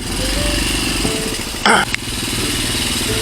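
A motorcycle engine runs steadily and close during heavy overnight rain, a loud continuous rumble broken briefly by a sharp burst of noise and a thud.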